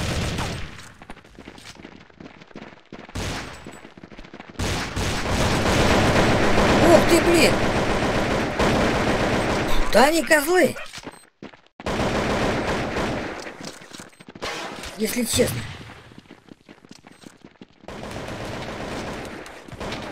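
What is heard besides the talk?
gunfire in video game Counter-Strike 2D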